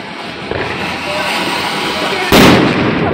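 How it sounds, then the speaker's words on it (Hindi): Chakri spinning ground firework going off during Diwali celebrations gives a continuous fizzing hiss that swells into a sudden louder crackling burst near the end, with people's voices mixed in. "चलाओ चकई"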